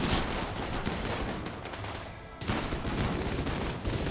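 Rimworld video game gunfire: a dense, continuous fusillade of overlapping shots fills the clip and dips briefly midway before resuming at full loudness.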